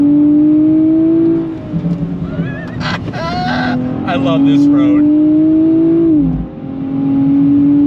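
Engine of a 2024 Nissan Z NISMO droning and revving on a winding road after a downshift, loud and close, with the pitch rising and falling while someone talks over it.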